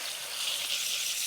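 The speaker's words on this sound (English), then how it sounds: "Then into a hot pan sizzling with sunflower oil and butter." Food sizzles in a hot pan of sunflower oil and butter, a brief, soft, steady hiss with no voices.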